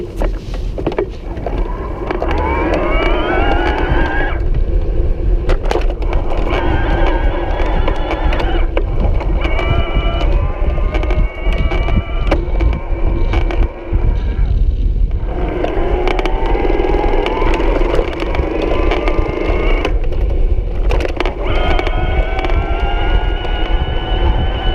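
A Bosch Performance Line Cruise ebike motor in turbo mode and a low gear: a loud, close electric whine rising in pitch through repeated pulls, easing off between them, with no voices.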